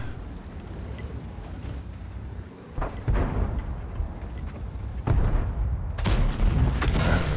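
Heavy booms of tank guns firing HE shells in World of Tanks on the Paris map, with loud deep blasts landing at intervals over a rumbling battle backdrop.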